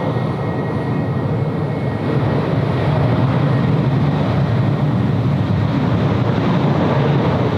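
A Jetstar airliner arriving from Seoul at Sydney Airport in wet weather, its engines producing a steady, loud broadband roar that holds throughout with no voices.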